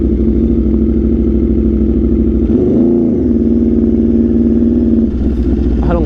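An Aprilia RSV4 with an SC-Project CRT exhaust is being ridden. Its engine gives a loud, continuous drone with a brief rev swell partway through before settling back to a steady pull.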